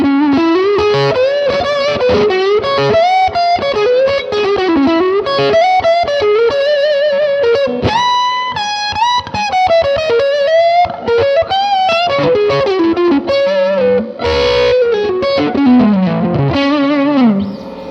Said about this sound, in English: Now let's hear the neck pickup with the Steampunk boost.